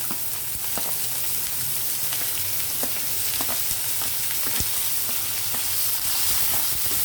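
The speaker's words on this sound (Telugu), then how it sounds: "ఇదిగోండి, పోపులు వేగాయి కదా, నేను కాకరకాయ ముక్కలు యాడ్ చేస్తున్నాను" Bitter gourd pieces fry in hot oil with tempering spices, giving a steady, close sizzle with frequent crackles and pops throughout, and no voices.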